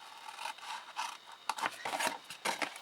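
Scissors snip and rasp through card while a small tuck-in treat box is trimmed, a series of short close cuts in quick succession.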